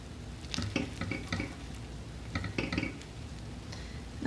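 A spatula scrapes and works through mac and cheese frying in a pan, with several clustered bursts of scraping and clatter over a low background hiss.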